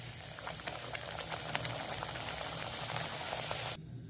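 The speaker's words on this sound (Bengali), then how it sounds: "আমি সবগুলো ভেজে নেব।" Dhaniya luchi deep-frying in hot oil, a steady dense crackle and bubbling that holds evenly at close range before cutting off abruptly near the end.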